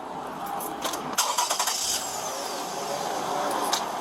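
A car engine cranks and catches during a roadside traffic stop, a brief burst of starter chatter settling into a steady idle, heard at moderate distance.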